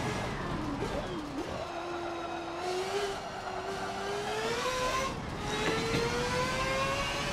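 Mazda 787B race car in Forza Motorsport 7 accelerating hard down a straight, a steady high engine whine climbing in pitch with gear changes, loud and continuous throughout.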